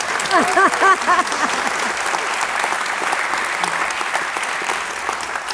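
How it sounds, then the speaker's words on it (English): A festival audience breaks into sustained applause, a dense even wash of clapping that stays steady throughout, with a few cheers near the start. "just give them a round of applause just because"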